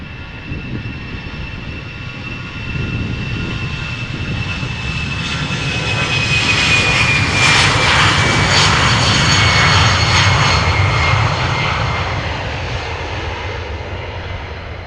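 An Airbus A330 bound for Kigali roars past after takeoff from a Schiphol runway, its jet engines swelling to a loud, broad rumble with a thin whine, then slowly fading.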